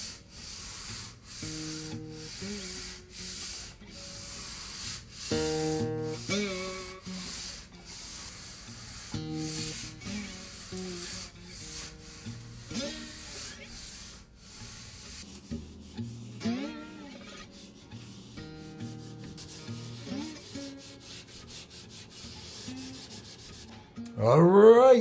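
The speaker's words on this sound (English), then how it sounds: "I have to get to sanding, and more sanding, and more sanding" Steady rasping of sandpaper rubbing across the wood of a cigar box guitar, in repeated strokes with brief pauses, fairly close and continuous throughout.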